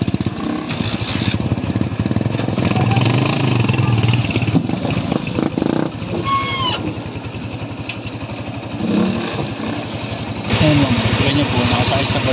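A tricycle's motorcycle engine runs steadily near a river crossing to the Nature Escape Camp in Daraitan, Tanay, Rizal, a continuous buzzing drone through the whole clip with faint background noise and occasional voices.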